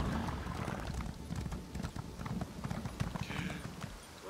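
Horse hooves clattering in a steady galloping clip-clop in The Elder Scrolls Online, a continuous rhythmic run of hoofbeats at moderate volume.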